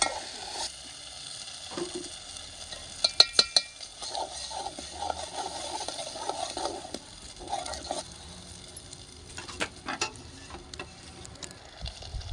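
Ground masala paste fries in oil in a pan while being stirred, a faint sizzle with scattered utensil taps and scrapes, a few louder clicks standing out.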